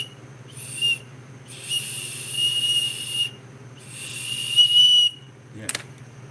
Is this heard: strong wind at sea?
no